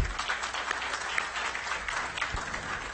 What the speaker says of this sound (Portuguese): Podemos aplaudir.